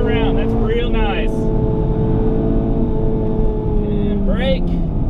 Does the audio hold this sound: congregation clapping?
no